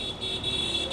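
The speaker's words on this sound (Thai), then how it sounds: "บีบแตรกันสนุกมากทุกคนที่นี่ผมชอบจริงสะใจทุกคนได้ยินแล้วมันเห็นไหมได้ยินนะ" Car horns sound on a busy Bangladesh street, a sustained bright honking tone over soft traffic noise, moderately loud throughout.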